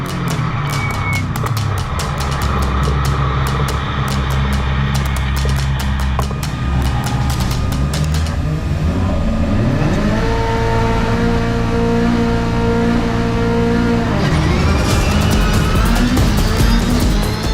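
Subaru rallycross race cars launch off the start line at a Nitro Rallycross event. Loud, close engines roar and rev hard, rising through gear shifts, with several cars blending into a continuous, dense engine howl.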